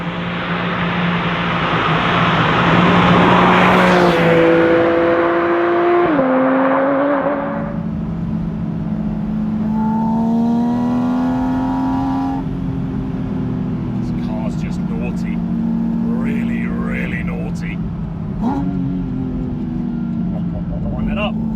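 A Porsche Spyder RS engine on a hill climb drones with a steady tonal hum that steps in pitch as it accelerates and shifts, heard close inside the car beneath someone talking.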